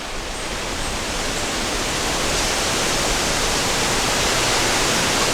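Steady, loud wind roars across the microphone, a dense unbroken rush of noise that swells slightly and never lets up.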